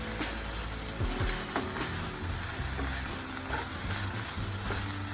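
Spring onion bhaji with grated fresh coconut sautéing in a pan, giving a steady low sizzle with a few scraping stir strokes, fairly close and without talk.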